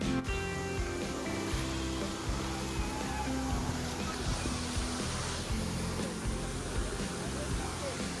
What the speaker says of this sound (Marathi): पाण्याचा आवाज जसजसा जवळ येत होता